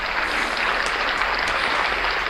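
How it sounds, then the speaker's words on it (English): A crowd claps steadily for a couple of seconds, an even wash of applause with no voices on top. "Big rounds of applause for Dummy Dow Jones."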